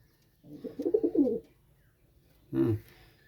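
Pigeons coo in two bursts, a longer throaty rolling call followed by a shorter one after a pause, close and moderately loud with no talking.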